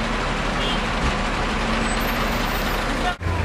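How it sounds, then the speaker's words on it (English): Heavy military convoy trucks rumbling past on a narrow mountain road in Ladakh, a dense, continuous engine roar close by with faint voices, the noise dipping briefly near the end. "Now we're all stopped because there's a gigantic military convoy going by on these narrow,"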